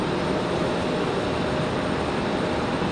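An ATR turboprop airliner approaches the runway to land at Raleigh-Durham International Airport, giving a steady, broad engine roar at moderate distance with no talk over it.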